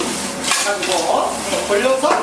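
Vegetables and seafood stir-fried in a pan for a Nagasaki white jjamppong, with steady clatter and scraping of utensils against the pan and a soft sizzle, continuous and close.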